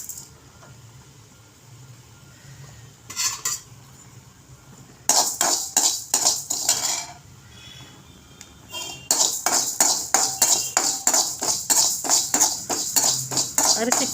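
Raw parboiled rice dry-roasts in a pan for a Chettinad-style spice powder, heard as bursts of rhythmic scraping and rattling as a spoon stirs it, separated by quieter pauses, with a voice speaking in between.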